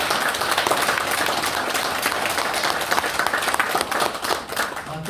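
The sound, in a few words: audience applause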